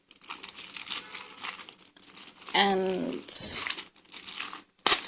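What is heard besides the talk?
crumpling and handling sheets of paper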